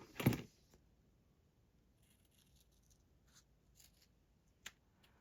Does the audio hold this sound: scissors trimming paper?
yes